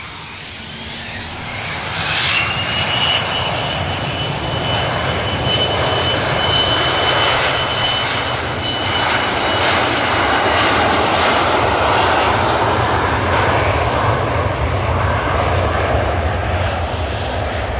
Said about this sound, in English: And the Logan Aero takes from 2-3 left.